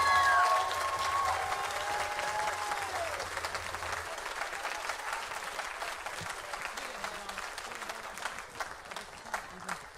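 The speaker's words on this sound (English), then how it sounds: "Can we get one more round of applause for our class of 2025?" A percussion concert audience gives a graduating class a sustained round of applause, dense clapping that fills the room and slowly fades, with a few voices and cheers underneath.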